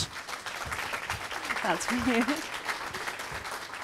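Audience applause at a talk held in a Microsoft Store community space, a steady wash of clapping running through the clip with a voice speaking over it.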